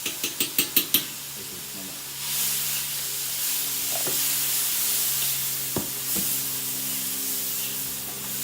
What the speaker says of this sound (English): our mushrooms. They're sauteing.